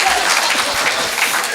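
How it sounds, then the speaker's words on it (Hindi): An audience at a Hindi comic poetry stage show claps in dense, steady applause that fills the whole short stretch with even, loud clapping. "ताली बजाओ भाभी जी के लिए।"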